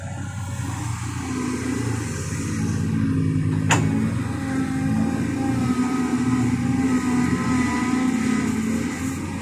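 A car engine hums and revs while driving, a steady mid-pitched drone with rising swells and a brief sharp click partway through.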